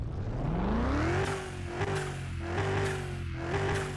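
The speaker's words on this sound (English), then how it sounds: "Twin turbo V8. Definitely a mean grumble." A twin-turbo V8 in a drag-built Elenti Callope from Car Mechanic Simulator revs up in a rising howl, then holds a high steady drone with small dips and faint turbo whistle, loud and close.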